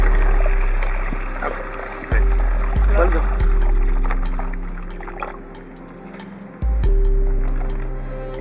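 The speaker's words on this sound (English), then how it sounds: "You add about 4 liters of water in the middle of the box." About four liters of water poured into the soil of a tree planting box, a loud continuous trickling and gurgling pour with a few pulses from the container, while a person speaks briefly.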